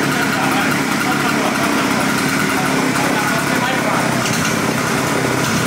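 A mini motorcycle engine runs loud and close in a steady high-pitched buzz, with people talking over it.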